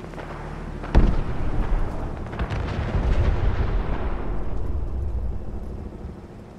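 Robot gunfire and explosions in Fallout 4 around Lexington: one sharp blast opens the clip, then a heavy, rumbling roar of fire and detonations rolls on before slowly fading.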